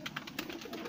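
A breeder pigeon coos faintly in a soft, rhythmic series of throaty pulses within a brief moment, with no talking.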